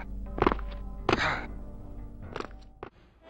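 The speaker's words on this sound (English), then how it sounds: "those Dark Forces sound effects sounded kind of familiar" Sound effects from the Dark Forces video game: a handful of dull thunks and thuds spaced irregularly over a low background hum, fairly close and with no talking.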